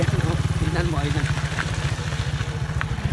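A motorcycle rides along a rough road in Coron, Palawan, its engine giving a steady, close, low pulsing throb throughout, with faint voices talking briefly over it.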